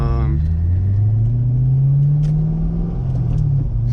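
2009 Chevrolet Corvette C6 3LT accelerating hard, a loud, deep V8 engine roar climbing steadily in pitch through a gear, close and continuous for a few seconds.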